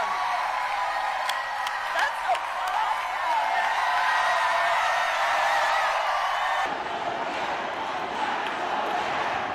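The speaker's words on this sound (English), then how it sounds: "let us applaud our young leaders, our first-time voters" A crowd at a Kamala Harris campaign event applauds and cheers first-time young voters, a loud, continuous roar of clapping and shouting that holds for the whole stretch.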